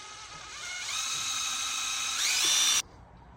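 An electric drill bores down through a part of a twin-cylinder oil-free air compressor, a steady high whine that steps up in pitch near the end before cutting off abruptly, heard close with no talking.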